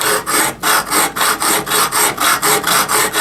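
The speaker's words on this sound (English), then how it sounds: "Grab my hacksaw. We're going to cut that stem off." A hacksaw cuts through a plastic spatula stem clamped at a table edge, with about a dozen quick, even back-and-forth rasping strokes, loud and close.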